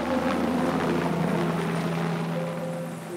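A helicopter's steady rotor thrum and engine whine during Mexican wolf capture operations in Arizona, loud and continuous, fading a little toward the end.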